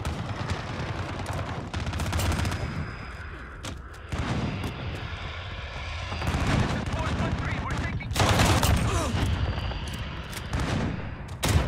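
Dense video-game gunfire in a battle with a VTOL aircraft, rapid bursts and sustained automatic fire, loud and close, with sharp cracks and booms throughout.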